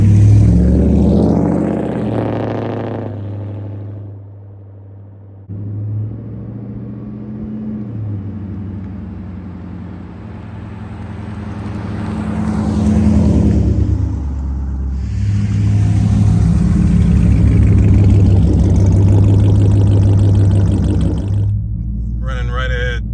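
A Dodge Charger SRT engine idles and rumbles at low speed during a slow test drive, a steady deep drone that swells as it pulls away, with someone talking over it for much of the time.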